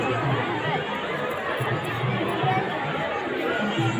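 A packed crowd at the Tuljapur temple keeps up a constant hum of mingled voices around the temple steps, close and busy, with faint laughter and footsteps within the steady babble.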